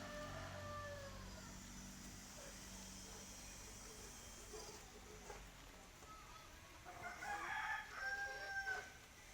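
A native crested rooster hatched on a home farm crows faintly in the distance, one long call early and another near the end, against quiet outdoor background noise.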